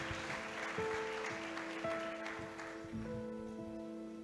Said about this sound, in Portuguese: os que podem, tomem seu assento, aplaudindo a Jesus